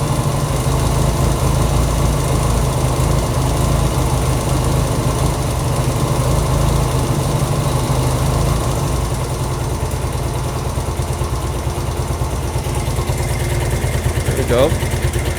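A Honda CB200 motorcycle engine, fitted with an aftermarket carburetor after adjustment, idles steadily and loudly with a continuous, even low rumble throughout, alone with no talk.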